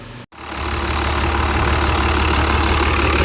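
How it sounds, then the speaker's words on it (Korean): A Yamaha SX420 KSH boat engine under repair fires up after a brief pause and settles into a loud, steady, rumbling idle with a constant low-frequency drone. "시동 걸어서 테스트하는 중입니다"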